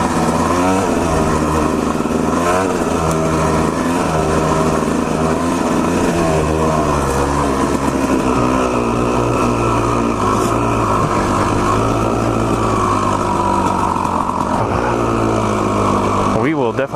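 A dirt bike engine runs hard and loud at full throttle, revving up and down continuously close by, with the rider's voice heard under the engine noise.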